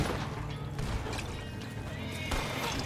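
A horse in a video game neighs loudly amid dense, noisy game action, with hoof clip-clops mixed in throughout the short stretch.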